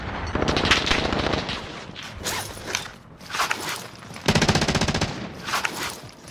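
Rapid automatic gunfire in Call of Duty on Rebirth Island, several loud close bursts of machine-gun fire separated by short gaps, with some mechanical clatter between them.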